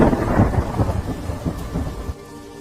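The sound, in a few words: heavy rain and thunder in a cartoon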